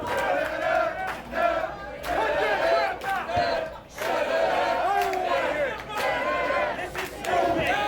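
A crowd at a wrestling show at Cotton Eye Joe's roars and yells in continuous loud waves, with brief dips between surges.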